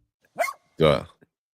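A puppy in a live-action Scooby-Doo trailer gives two short, close barks about half a second apart, the second fuller and longer, with a voice-like quality.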